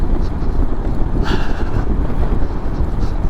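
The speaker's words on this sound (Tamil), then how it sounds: "காற்று பயங்கரம்" Strong wind buffets the microphone on a mountain road to Tawang, a loud continuous roar with a brief gusty swell partway through.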